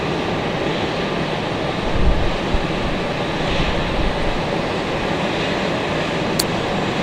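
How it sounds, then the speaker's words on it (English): A JetBlue Embraer E190 jet arrives at Raleigh-Durham International, heard as a continuous broadband engine roar with a slight rumbling swell midway and a brief click near the end, no voices present. "Give you guys a nice close-up there of the E190. Making its way in for JetBlue."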